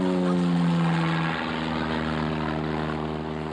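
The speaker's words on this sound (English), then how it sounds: "Sometimes the World War II planes start going." World War II-era propeller airplanes droning overhead, a steady loud engine hum with a low harmonic tone that holds and fades slightly as they pass, no voices.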